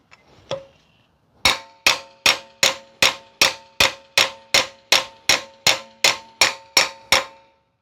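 A hammer striking a screwdriver wedged against a brake part to pry it off, with one early tap, then a steady run of about fifteen loud, ringing metallic clangs at a regular pace.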